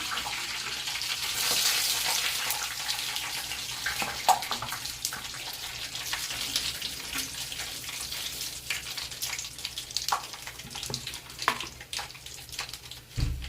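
Dried red chillies fry in hot oil on a switched-off stove for gongura pachhadi, a soft, steady crackling sizzle with scattered light pops and clicks of utensils, fairly quiet and without talking.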